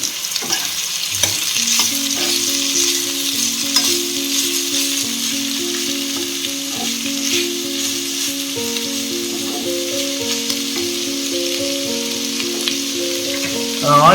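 Chopped onions sizzle and fry in hot oil for a pepper crab masala, a loud, steady crackling hiss close by with occasional stirring rattles, continuous throughout with no talking.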